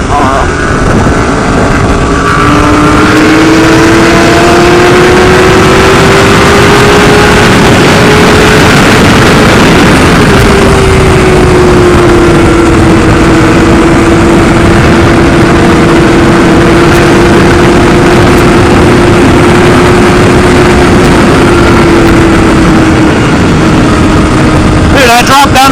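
A sport motorcycle in fourth gear at high speed on a straightaway: a loud, steady engine drone mixed with heavy wind rush, its pitch holding nearly constant with slight dips and rises throughout.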